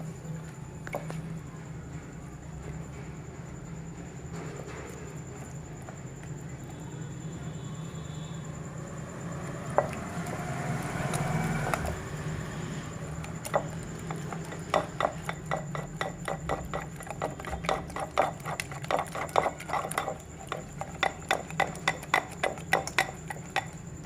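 Five eggs are beaten in a bowl: soft scraping at first, then a fast run of rhythmic clinking taps from a utensil against the bowl, close and fairly quiet.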